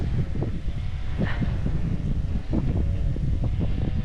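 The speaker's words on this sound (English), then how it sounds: "Very windy." Steady wind buffets the microphone with low rumbling gusts at coastal salt pans in Sicily, loud and continuous, with no voices.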